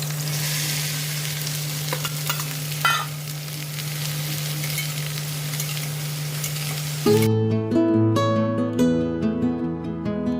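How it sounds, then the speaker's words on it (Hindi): Chopped okra (bhindi) sizzles and fries in desi ghee in a home kitchen pan, a steady crackling hiss with a stirring clatter, then a clear tonal sound takes over near the end. "तो भिंडी काटने के बाद अब टाइम था इसे छौंकने का"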